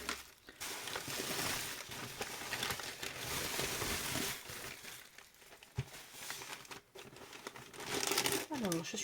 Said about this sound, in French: je vais arracher un petit peu le papier